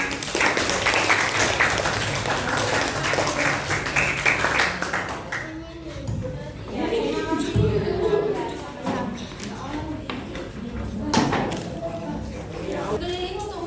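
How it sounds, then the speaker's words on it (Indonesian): Classroom applause for a student group during an Indonesian school science lesson on air pollution: several seconds of dense, steady clapping from many students, then fading into talking and classroom bustle. "beri tepuk tangan untuk kelompoknya Luna"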